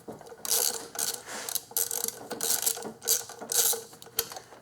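A ratchet backs out the last bolt on the intake manifold of a 2001 Infiniti QX4 with 150,000 miles, ticking in rapid bursts of close, crisp clicks separated by short pauses, with no speech.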